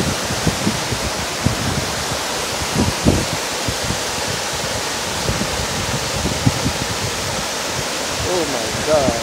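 The Likhu river in Okhaldhunga, Nepal rushes as a steady, broad roar of water close by, filling the whole clip with no clear talk over it.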